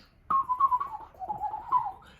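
A single person whistles a wavering tone close by, with small fluttering breaks and soft clicking mouth noises mixed into the pitch.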